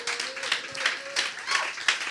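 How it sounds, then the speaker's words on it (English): An audience at an awards ceremony claps again, a steady, moderately loud patter of many hands over a couple of seconds, with a voice briefly audible underneath. "Clap it up one more time."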